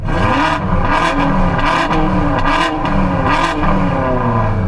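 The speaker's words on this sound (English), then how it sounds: "can you guys now rev up both your cars together" Loud, close engines rev together in repeated surging bursts, rising and falling roughly every second over a constant deep rumble.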